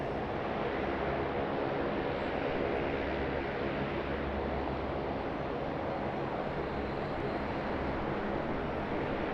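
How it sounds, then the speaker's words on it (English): Air India Boeing 787-8 taxiing out at Sydney Airport, a steady, broad jet roar with a low rumble that holds level throughout, with no talk. "Air India Boeing 787-8 heading out, and our Asiana Airbus A350-900 lining up"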